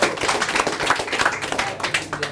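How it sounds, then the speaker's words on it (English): Audience applause at a sales mastermind seminar, a burst of brisk overlapping hand claps that stays loud and steady for a couple of seconds. "Give him a round of applause for that"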